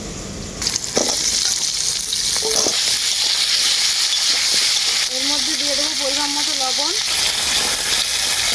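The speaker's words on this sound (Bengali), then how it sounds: "এরপর আমি আলুগুলোকে ভালো করে ভেজে নেব" Potatoes fry in oil with onion, a loud, continuous sizzle with stirring scrapes near the start and a brief voice-like sound toward the end.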